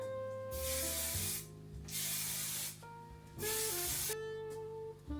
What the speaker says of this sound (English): I'm going to spray the finishing spray as well